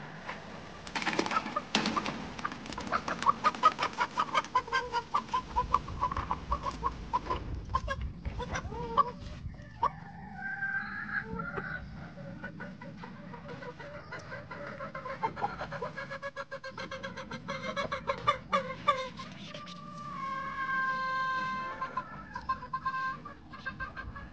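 Chickens cluck and squawk nearby in a backyard coop, a busy stream of overlapping calls and short cackles with scattered louder bursts, continuing throughout without talk.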